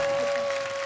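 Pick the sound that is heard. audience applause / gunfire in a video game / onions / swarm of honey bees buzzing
audience applause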